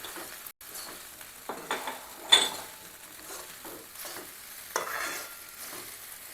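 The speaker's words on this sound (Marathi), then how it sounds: "तर आपण यामध्ये मीठ मिक्स करून घेतलेलं आहे." Salt being stirred into sabudana khichdi in a pan, with a spoon scraping and tapping the metal in irregular strokes over a faint background sizzle, close and moderately quiet, no voices.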